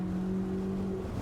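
Chevrolet Corvette C8 Z06 engine on a race track, a steady sustained drone heard from inside at moderate volume, without clear revving peaks in this short stretch.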